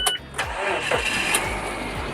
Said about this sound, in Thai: เดี๋ยวผมสตาร์ทรถให้ดูนะครับว่าเครื่องเนี่ยมีสะอึกไหมนะครับมีสะดุดไหมนะครับ